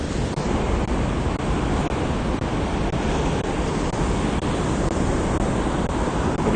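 Ocean surf washing onto a shore under a gray, rain-threatening sky makes a steady, dense roar with no clear breaks, mixed with wind rush across the microphone and no voices.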